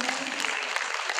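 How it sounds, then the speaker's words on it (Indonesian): An audience at a talk on personality and blood types gives a round of applause, a steady fairly soft patter of many hands clapping with light accents, heard from a moderate distance. "Tepuk tangan sekali lagi."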